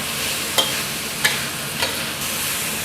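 Chinese kale and pork stir-fried in a wok: a loud, steady sizzle runs throughout, with three evenly spaced scrapes of the spatula against the metal.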